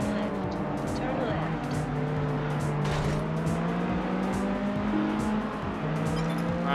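An Aston Martin engine drones and revs steadily in the racing game Test Drive Unlimited, with shifting pitch as gears change and faint tire noise throughout, a continuous close-up car sound.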